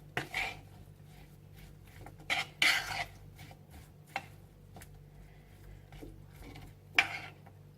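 Salad and sauce tossed together in a bowl for chicken shawarma, with a utensil scraping and clinking against the bowl in irregular bursts, close and moderately loud, with no talking.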